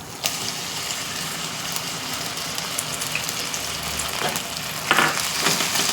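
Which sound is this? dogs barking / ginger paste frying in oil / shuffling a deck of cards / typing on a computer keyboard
ginger paste frying in oil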